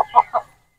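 A Boston Roundhead rooster gives two or three short, close, loud clucks in quick succession, then falls silent.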